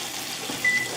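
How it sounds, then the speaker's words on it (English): A steady hissing sizzle of steak frying in oil in a medium pan over medium-high heat, with a faint thin tone over it. "Yep, listen to that sizzle."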